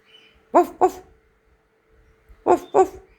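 A dog barks in two quick double bursts, sharp and fairly close, with a quiet pause between the pairs.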